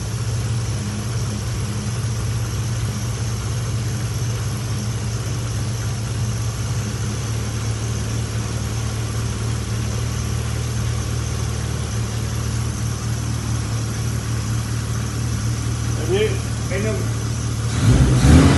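A classic Mini Cooper engine idles steadily during an MOT emissions test, a constant close drone with a strong low hum, rising into a brief rev right at the end, with faint voices.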